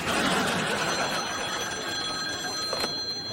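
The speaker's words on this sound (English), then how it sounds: "Jake, it's Amanda on the phone" Telephone bell ringing steadily in a diner, loud and continuous over a bed of background room noise.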